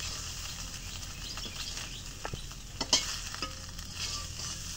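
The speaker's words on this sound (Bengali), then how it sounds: "মাছ কর করে ভাজবা।" Small river fish frying crisp in a pan, a quiet steady sizzle broken by a few sharp clicks and scrapes of a spoon, one scrape louder than the rest, heard up close with no speech.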